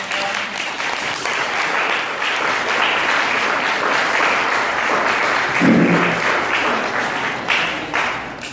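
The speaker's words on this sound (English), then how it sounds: "I'd like you to give him a warm round of applause." A graduation audience breaks into sustained, dense applause that stays loud for several seconds, with a few louder individual claps and a brief cheer near the end.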